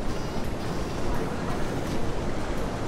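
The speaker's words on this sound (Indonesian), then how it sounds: "Ombaknya besar-besar banget, aku takut." Big ocean waves surge and wash continuously onto a beach, a dense, loud roar without distinct breaks, with a voice briefly audible over it.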